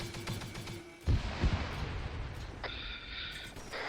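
Gunfire during a platoon field training exercise outdoors, with two sharp shots close together followed by a noisy open-air background and a faint high whine.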